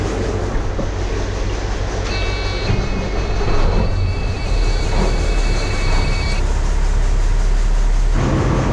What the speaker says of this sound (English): I'll fire this truck up too.